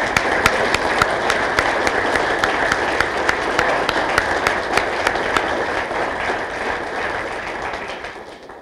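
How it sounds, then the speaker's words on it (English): An audience applauds police retirees at the 2016 Indianapolis Metropolitan Police Department retirement celebration, with sustained, dense clapping that holds steady and then fades slightly toward the end. "Let's give all of our retirees another round of applause."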